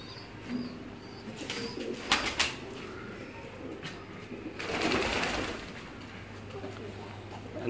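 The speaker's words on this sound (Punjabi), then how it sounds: "ਨੀਲ ਦੁੰਬੀ ਬਰੀਡ ਦੇ ਜੋੜੇ ਨੇ ਜੀ ਇਹ ਸਾਰੇ" Neel Dumbi breed pigeons coo softly in a loft, their low throaty calls faint and intermittent beneath scattered clatters, rustling and a burst of flapping, while voices murmur in the background.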